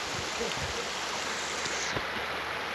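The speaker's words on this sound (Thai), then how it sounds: "วันนี้เรามาเที่ยวน้ำตกห้วยจันนะครับ" Huai Chan waterfall in Khun Han district, Sisaket province, running with modest flow, gives a steady, dense rush of falling water that fills the whole clip at close range.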